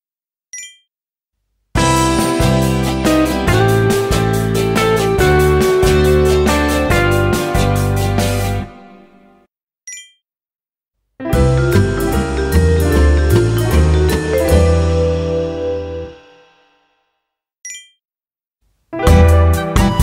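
Non-diatonic chords played on a keyboard, each struck loudly and left to ring out, in several separate groups with silent gaps between them.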